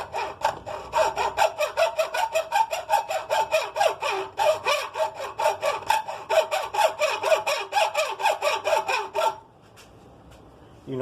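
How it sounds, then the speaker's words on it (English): Hacksaw cutting through wood with steady, rhythmic back-and-forth strokes, rasping and close, about two strokes per second for nine seconds before stopping abruptly into quiet. "Let me see if I can hit it with the hacksaw."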